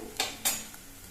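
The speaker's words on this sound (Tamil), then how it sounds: "முருங்கைக்கீரையை சேர்த்துட்டு நல்லா வதக்கணுங்க" Drumstick leaves are stirred and sautéed in a pan, two distinct scraping clinks of a spoon against metal over a quiet background sizzle.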